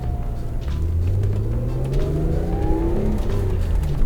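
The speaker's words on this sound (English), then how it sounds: "Engine's got a really interesting note to it." A purple Ford Probe GT's engine revs and climbs through the gears, a steady loud drone with rising tones, close by and without speech.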